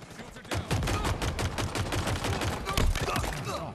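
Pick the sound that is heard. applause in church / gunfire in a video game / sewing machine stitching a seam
gunfire in a video game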